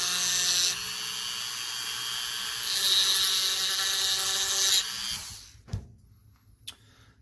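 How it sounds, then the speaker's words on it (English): A high-pitched Dremel rotary tool with a fine sanding drum whines steadily while grinding metal pistol parts, pitch shifting a few times before it winds down and stops, followed by a couple of light clicks. "Just going to use the Dremel, a fine sanding drum"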